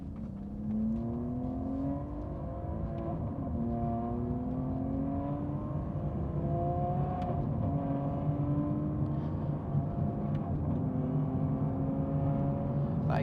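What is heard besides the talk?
V12 sports car exhaust accelerating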